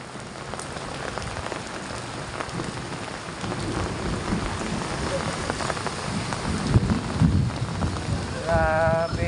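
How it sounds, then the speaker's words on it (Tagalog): Heavy rain pours down steadily on surfaces during a flood. A rumble of thunder builds near the end, and a brief voice-like sound surfaces close to the finish. "Wala pa isang oras umuulan."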